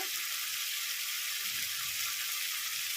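Garlic and ginger paste hitting a little hot oil in a pan, a dense, even hiss of sizzling that holds steady and close for the whole stretch, with no voices.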